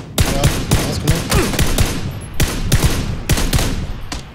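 Rapid bursts of gunfire ring out in a PUBG match, a string of sharp, loud cracks that come in quick clusters with brief gaps between them.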